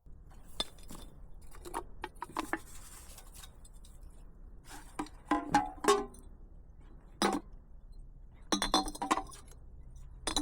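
Broken glass clinks and rattles at a campsite as shards are picked up and dropped during cleanup, a scatter of sharp chinks at irregular intervals with clustered bursts, close and alone.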